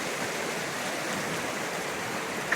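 Floodwater rushes through a village after heavy rain, a steady broadband roar like a flowing stream that holds constant throughout, with no talking.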